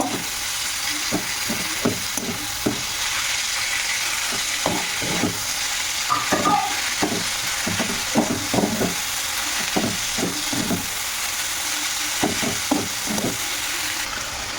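Ginger, garlic and chili frying in a pan for a Bihari-style chicken dish, a steady sizzle broken by repeated scraping stirs of the spoon, close and with no one speaking.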